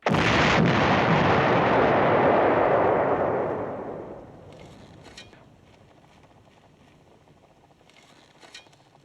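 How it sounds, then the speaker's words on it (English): An explosive detonation in a field setting: a single huge, close blast with a long rumbling roar that fades over about four seconds, then quiet outdoor ambience with faint distant sounds. "5, 4, 3, 2, 1, detonation!"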